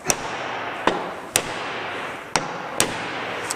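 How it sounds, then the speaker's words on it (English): A hammer striking a punch to drive a pin out of an M5OD manual transmission, five sharp metallic blows at an irregular pace over a steady background hum, close and loud. "I'm going to take a punch and a hammer, and I'm going to drive this pin out."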